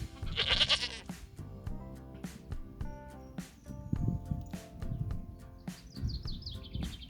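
Small ewes bleat nearby while grazing outdoors, several short calls scattered over the stretch alongside birdsong and a brief high chirping burst, moderately faint with no talk.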